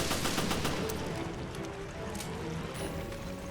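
Rapid bursts of gunfire in Resident Evil Revelations, fired with piercing ammo at propeller enemies, dense rattling shots at the start thinning into scattered reports, moderately loud.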